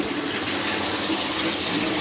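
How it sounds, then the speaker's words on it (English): Water pours steadily into a grow bed in a home aquaponics setup, a continuous close gushing and splashing like a running tap, loud and unbroken with no voices. "So the water is continuously running into the grow bed."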